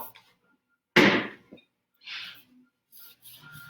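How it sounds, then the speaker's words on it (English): A rag rubs wax onto a painted surface in a few separate strokes, one loud swipe followed by quieter brushing passes and short rubs, close up with silence between. "You take your rag and you just rub in gently and pull off."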